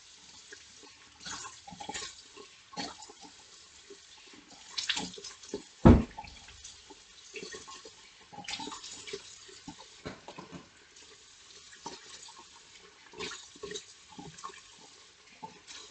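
Water runs from a tap into a sink while someone washes off a microdermabrasion treatment. Soft splashes and trickles are broken by a few louder splashes and one sharp knock, close and quiet.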